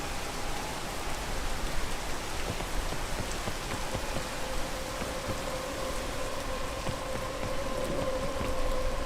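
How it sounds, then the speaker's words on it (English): Steady rain pours down on an exposed mountain peak, a dense, even hiss of drops striking surfaces close by, continuous and fairly loud with no voices. "Go away, Rain, go away."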